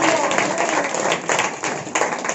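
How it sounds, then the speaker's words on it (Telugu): Applause at a Christian fasting prayer meeting in a church in Mulapadu, a steady wash of clapping hands from the congregation, moderately loud with a few sharper bursts throughout. "చప్పట్లు కొట్టి దేవునికి స్తోత్రం"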